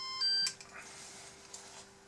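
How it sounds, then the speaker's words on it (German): Speed controllers in a Volvo dumper RC model conversion give a single short electronic beep at startup, followed by a faint steady hum. "die Regler piepsen ja immer einmal kurz. Das ist für die Nullstellung"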